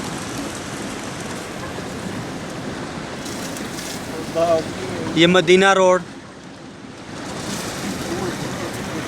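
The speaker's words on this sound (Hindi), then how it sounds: "ये देखें आधी आधी गाड़ियाँ पानी में डूब रही हैं" Cars push through deep floodwater on a road in Jeddah after heavy rain, a constant wash of splashing, surging water with wind noise, and someone briefly speaks over it midway.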